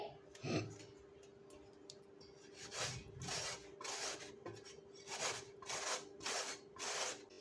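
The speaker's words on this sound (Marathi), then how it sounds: "जो आपण दुधी सोडला आहे त्याला छान असं आपण किसून घ्यायचं आहे" Bottle gourd (dudhi) rubbed over a large-hole grater, a faint, steady series of rasping strokes in a quiet kitchen, with an even rhythm that speeds up toward the end and a low hum underneath.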